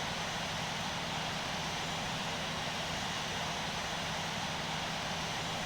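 An Airbus A320 in Frontier livery, in the Infinite Flight simulator, takes off from runway 34 left at Reno, Nevada. Its engines give a steady, loud, broadband roar with a faint hum and no pauses.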